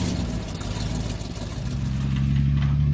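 A truck engine idles close by, a steady low mechanical drone that swells slightly toward the end, with no voices over it.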